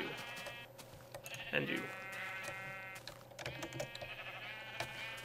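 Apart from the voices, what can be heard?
sheep bleating in Minecraft video game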